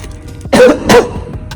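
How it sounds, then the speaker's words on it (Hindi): Two short, harsh coughs close to the microphone, spaced about a third of a second apart, against a quiet background. "थोड़ी खांसी लग गई है"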